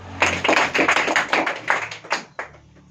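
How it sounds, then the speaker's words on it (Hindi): Students in a class 10 science oral test clap for a classmate in a classroom, a short burst of quick, uneven hand claps nearby that tapers off after a few seconds. "ताली बजाइए।"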